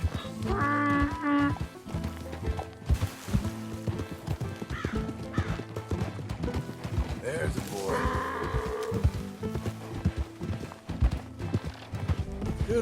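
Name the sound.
horse hooves and whinnying, Red Dead Redemption 2 video game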